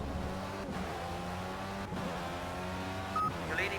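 A race car in the video game Project CARS brakes for a chicane, its engine note steady and then dropping in pitch with gear changes, clear and close with no talk.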